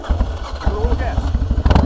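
Harley-Davidson Dyna V-twin engine given a little throttle, a low lumpy burbling rumble with uneven pulses, close by, partly under voices talking.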